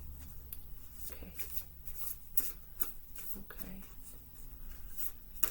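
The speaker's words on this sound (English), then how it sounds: "I've shuffled together the goddess cards." Goddess oracle cards are shuffled by hand, giving quiet riffling and rubbing bursts at an irregular rhythm, close by and faint.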